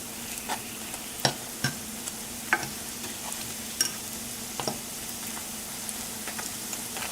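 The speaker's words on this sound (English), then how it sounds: "You're going to fry for another 5 minutes on the other side." Vegan unchicken frying in a pan, a steady close sizzle with scattered sharp pops and spatters of oil throughout.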